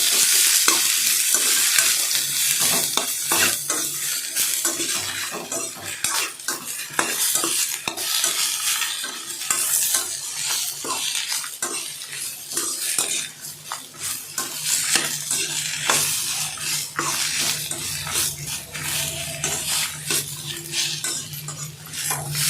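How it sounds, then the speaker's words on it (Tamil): Onions sautéing in a pan for tomato chutney: a steady sizzle under frequent scraping and stirring of a spoon against metal. The sound is close and continuous throughout, with no talking. "வெங்காயம் சேர்த்து நல்லா வதக்கிக்கோங்க வெங்காயம் நல்லா வதங்கி வரணும்"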